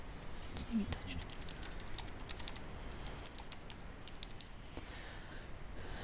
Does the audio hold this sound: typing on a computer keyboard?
yes